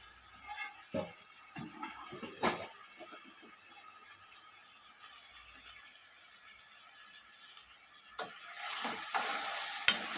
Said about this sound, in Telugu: మెంతుల కూర పచ్చివాసన పోయేదాకా వేపుకున్నాము ఇప్పుడు మటన్ వేసుకున్నాము